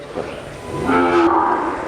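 A cow on a cattle farm holding Gir and Sahiwal cattle lets out a long, loud, low moo that swells and holds.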